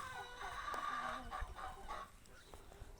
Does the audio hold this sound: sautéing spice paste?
no